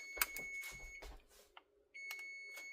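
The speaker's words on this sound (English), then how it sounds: "I'm going to turn my timer off." A kitchen timer beeps in a kitchen during cracker baking, sounding as repeated high-pitched tones mixed with clattering at first, then a steady held beep near the end, fairly faint.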